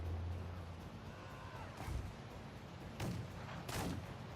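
Cannon fire in the Warhammer Man O War naval game, low distant booms with three separate bursts of blasts over a rumbling background, no voices.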